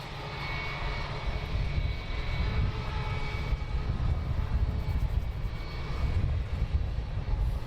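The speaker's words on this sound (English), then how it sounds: "so we do have an EasyJet taxiing out" An EasyJet airliner taxiing at London Luton Airport, its engines holding a continuous broad roar and whine at moderate distance, steady throughout with no voices.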